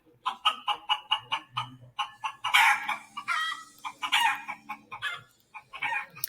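Chickens cluck in a quick rhythmic series of clucks, with a rooster's drawn-out crowing calls mixed in, fairly close.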